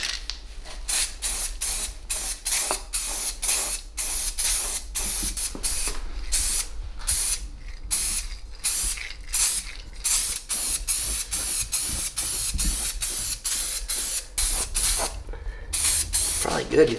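Repeated short bursts of spray paint hissing close by from an aerosol can, in a steady on-off rhythm with brief pauses between blasts.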